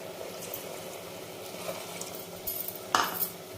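A spoon stirs mutton curry in a pot after water is added, with soft scraping and bubbling, then a sharper metallic knock against the pot near the end, close and fairly quiet.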